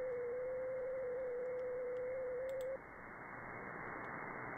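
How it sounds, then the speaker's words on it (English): Digital data tones picked up on an SDRplay RSPdx radio receiver: a steady single tone over band-limited static for about three seconds, then stops, leaving only a hiss of noise with faint clicks. "Looks like we got some kind of digital tones."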